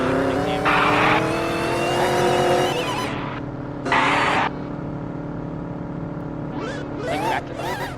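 Engine roar from a video game car with a tuned, cambered, slightly lowered setup, revving steadily while two bright bursts of tire squeal cut through and a few shorter chirps follow near the end.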